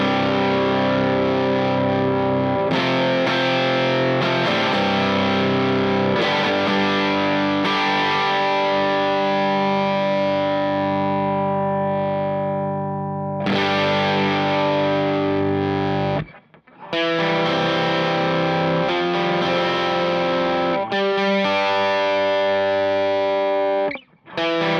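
An electric guitar runs through a King of Tone overdrive stacked with an RC booster pedal, producing a loud, saturated, heavily driven tone. Sustained chords and riffs are broken by a couple of short pauses, close-miked with no voices.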